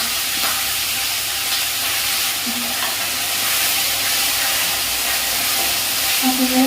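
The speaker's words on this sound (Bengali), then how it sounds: "ভালো করে কষিয়ে নিচ্ছি মশলাগুলি" Grated onion, ginger, garlic and green chilli masala sautés in a pan, a steady hissing sizzle that runs throughout with faint scraping and a few small tonal clinks near the end.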